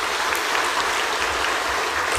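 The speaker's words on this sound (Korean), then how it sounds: "우리 인사하실 때에 위로와 소망의 박수로 받아주시기 바랍니다" A church congregation at a Sunday worship service applauds steadily for a family standing to greet them, an even wash of many hands clapping that holds at the same level throughout, with no talking.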